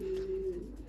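A pigeon in a top loft housing about seven to ten birds gives a steady low coo lasting over half a second, close and clear against a quiet background, with no talking.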